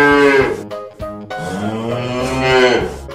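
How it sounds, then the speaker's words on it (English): A bull moos in loud, drawn-out bellowing calls with rich harmonics, one short call followed by a longer sustained low moo, close and alone with no talking. "Bull."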